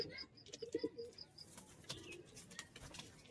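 Giribaz and local pigeons give a few soft, low coos along with brief wing flutters, fairly faint and close with no one talking.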